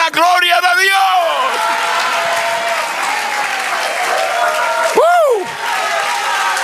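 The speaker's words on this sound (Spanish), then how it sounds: "Aplaude al Señor." A church congregation applauds during a sermon, a steady, dense wash of clapping that carries on beneath a preacher's loud exclamations.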